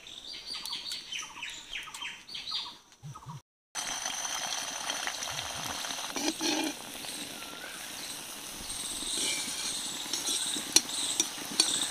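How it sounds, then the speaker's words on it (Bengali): Potato balls frying in white oil in a wok give a steady, soft sizzling hiss with faint bubbling. Bird chirps come first, then a brief silence before the frying starts. "এবার হালকা করে আমি তেলে ভেজে নেব।"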